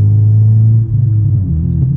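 Honda Civic Si with full bolt-ons, exhaust rumbling low and loud up close, with a small dip and rough burble partway through that could be pops; no one speaks over it.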